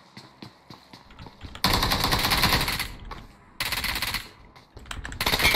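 Bursts of automatic gunfire in a PUBG Mobile match: scattered single shots give way to two long, loud sustained volleys, then a few more shots and another burst starting at the end.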